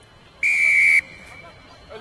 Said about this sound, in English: And there's a whistle, and it's going to be a penalty to the Bobcats.